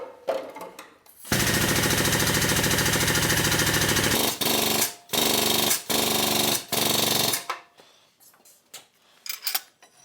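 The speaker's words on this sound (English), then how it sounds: "Now this is air over hydraulic, so it moves pretty slow." An air-over-hydraulic jack under a stagecoach undercarriage runs in loud sustained rattling bursts, one long stretch followed by several shorter pulses, with no talk over it.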